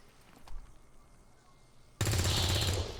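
Gunfire in the video game XCOM 2: a sudden loud burst of rapid automatic shots erupts after a quiet stretch and runs steadily to the end.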